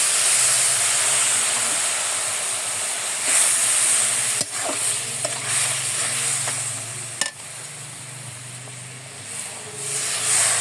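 Fish roe frying in oil, with a splash of water added for a Bangladeshi egg bhuna, gives a loud, steady sizzle and steam hiss that runs throughout, broken by a few sharp clicks and stirs.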